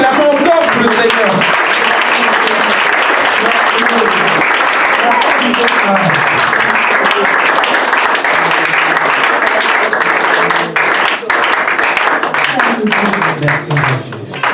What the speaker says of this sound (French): Que nous acclamons encore pour le Seigneur.